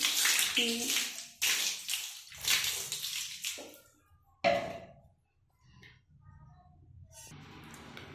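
Water from a tap splashes over old steel taps that have just been cleaned of rust in a bathroom, rinsing in close bursts that stop and start. A voice speaks softly between the bursts of water.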